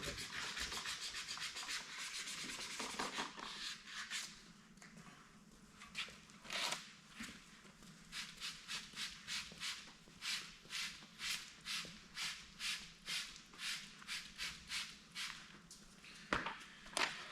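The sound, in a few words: wet sanding with 600 grit sandpaper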